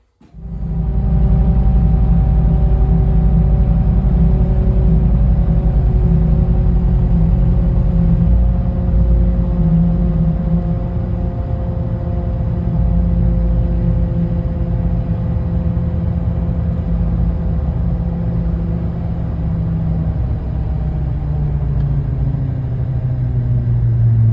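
A GM truck engine with a failing 6L80E torque converter runs steadily, a close, loud, low rumble with a humming drone whose pitch wavers and sags slightly as the RPM shifts.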